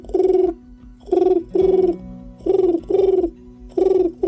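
A human voice imitates pigeons cooing, making six soft, rhythmic low hooting coos in evenly spaced pairs, close and clear.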